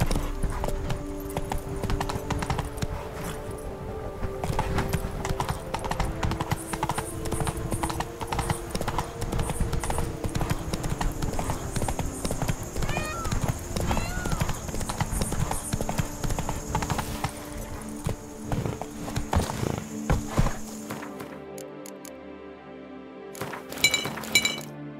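Roach, a horse in The Witcher 3 video game, gallops with a steady, loud clip-clop of hooves over a busy game soundtrack, with occasional clinks and glassy breaking sounds; near the end the hoofbeats fade into sparser effects.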